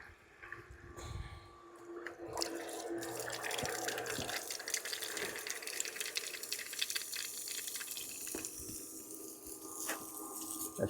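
A small submersible sump pump draws water through a hose, a continuous splashing, gurgling flow of moderate loudness with scattered clicks and knocks and no talk.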